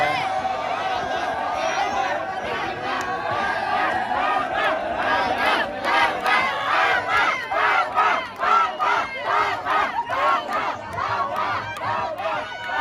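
A large football crowd at a Thai football awards gathering in Korea chants and cheers loudly in steady rhythmic bursts, a dense roar that holds throughout with a voice talking over it.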